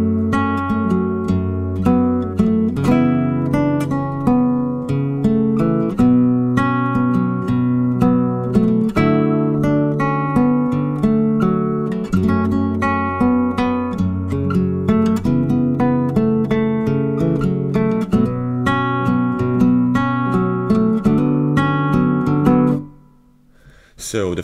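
Fingerstyle acoustic guitar plays a song in a beginner arrangement, plucked notes and chords in a steady flowing rhythm, close and clear, ending in a short silence with no talking.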